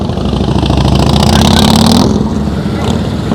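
Motorcycle engine revving loudly and steadily during slow-speed riding practice, throttle held up, with a voice talking over the engine noise.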